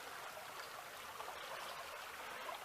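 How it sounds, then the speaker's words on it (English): Fast-running Fisher Creek rushes toward a sinkhole along the Leon Sinks Geological Area trail, giving a steady, broadband gush of flowing water that stays even and fairly close throughout, with no voices. "The stream looks like it's running really fast."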